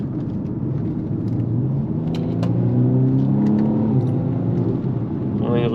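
A BMW 235i Gran Coupé four-cylinder of 306 hp accelerating in sport mode with exhaust valves open, a rising engine drone climbing through gears from inside the car.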